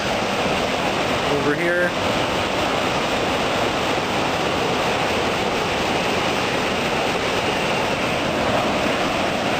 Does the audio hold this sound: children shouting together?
no